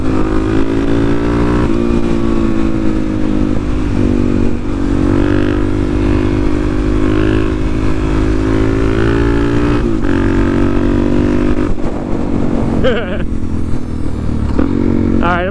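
A Suzuki DRZ motorcycle with its stock carburetor drones loudly and steadily while being ridden, the engine note rising and falling slightly, with wind rush and a brief rider's voice heard over it.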